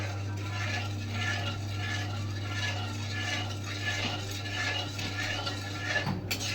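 Sugar goes into an almond burfi mixture stirred in a pan, giving rhythmic, repeated scraping strokes over a steady low background hum.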